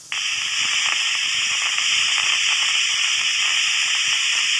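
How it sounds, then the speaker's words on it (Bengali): A pressure cooker boiling dal lets off a loud, steady whistle and hiss of escaping steam that starts abruptly and carries on without a break, close up, with no talking. "এরপর 4-5টা প্রেসারে সিটি দিয়ে নিই"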